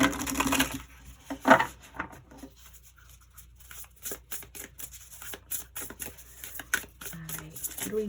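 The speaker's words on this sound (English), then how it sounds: "Let's just give it another shuffle." An oracle card deck is shuffled in bursts of quick, papery riffling and tapping, close and fairly quiet, with brief pauses and faint voice sounds mixed in.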